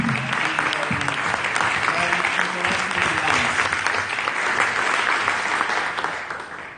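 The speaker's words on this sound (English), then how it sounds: "I ask you to give them a big applause" Dense, sustained audience applause at a commons conference in Bologna, loud and even from start to finish, tapering slightly at the end.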